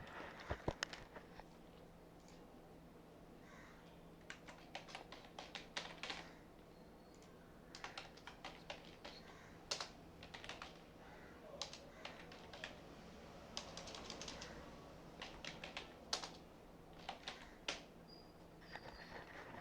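Quiet computer keyboard typing while entering text into PowerPoint placeholders, irregular bursts of light key clicks spread throughout, faint and alone.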